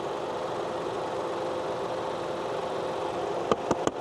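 The 3-cylinder engine of a 2024 Maruti Suzuki Swift idles with a steady, even hum and faint vibration, a few light clicks near the end, and no talking.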